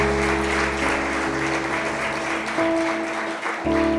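A church congregation at a Holy Communion service in Curitiba applauds in praise, a dense, steady wash of clapping over a low drone, loud and close throughout the short burst.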